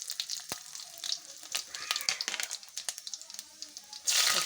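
Mustard seeds, fennel and other whole spices, with a bay leaf and dried red chillies, fry in hot oil for a duck curry, crackling and popping in an irregular, busy patter that swells into a louder steady sizzle at the end.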